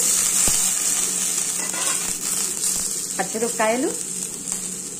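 Dried red chillies and green chillies fry in hot oil with a steady, close, crackling sizzle that runs throughout, and a brief voice-like sound rises near the end.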